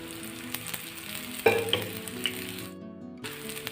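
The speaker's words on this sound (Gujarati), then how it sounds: "ફરી વખત આ રીતે આપણે ઉપરથી આ રીતે તેલ રેડી દઈશું" Oil poured over moong dal and semolina batter shallow-frying in a pan, a steady close sizzle with a few sharp pops and crackles, then a brief drop to near quiet before the frying hiss returns.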